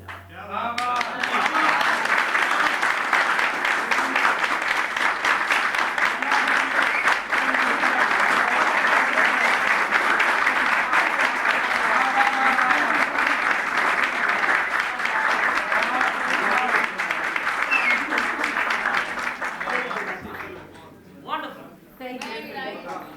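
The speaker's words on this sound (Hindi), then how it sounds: "दानिया खान और अदब कारिया के लिए एक बार फिर तालियां" Sustained applause from the audience at a Shaam e Adab poetry gathering, loud dense clapping with cheers and voices mixed in, fading near the end as a voice begins speaking.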